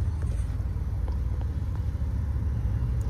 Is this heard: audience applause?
no